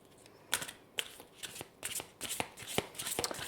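Tarot cards are shuffled for a reading, a close, crisp run of riffling bursts and soft slaps repeating in quick uneven rhythm, with no talking.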